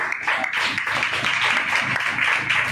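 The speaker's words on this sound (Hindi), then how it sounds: "एक बार जोरदार ताली" A church congregation claps loudly during a sermon, dense and continuous applause that fills the room with no voices over it.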